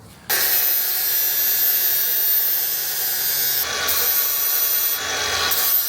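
Sanding the top of a steel DIY winch bumper for a third-generation 4Runner gives a loud, continuous abrasive rasping close by, holding steady for several seconds with a slight change in tone near the end.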